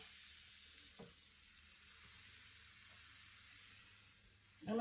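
Pancake batter cooks in a pan with a soft, steady sizzle, a faint clink near the start and a louder scrape or clatter at the very end.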